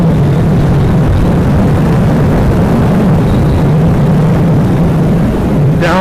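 A 2014 Yamaha MT-07 motorcycle engine on a test ride, a loud, steady low drone with wind rush, continuous and close throughout.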